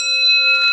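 A Hermle grandfather clock movement strikes its bell once. The clear, loud metallic tone rings on steadily with a rich, layered ring.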